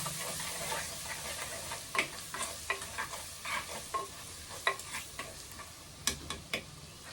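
Garlic is stirred into a simmering sura (shark) curry in a pan: a bubbling sizzle runs under a series of irregular scraping and clinking strokes from the spoon, close and fairly quiet, with no talking.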